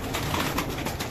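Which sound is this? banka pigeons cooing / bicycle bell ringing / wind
banka pigeons cooing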